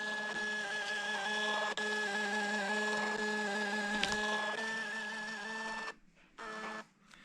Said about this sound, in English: I'm going to send them via Bluetooth to this Fomamo Bluetooth printer